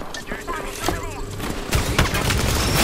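Enemy gunfire in an Apex Legends Arenas match, a dense fusillade of shots crackling in bursts with voices murmuring underneath, growing louder and heavier toward the end.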